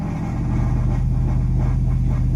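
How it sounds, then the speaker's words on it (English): A 2004 GMC Yukon with a multiple-cylinder misfire and an evap leak idles and revs in place, a steady close, loud low rumble with a rough, uneven pulse running through it for a couple of seconds. "Let's rev it up."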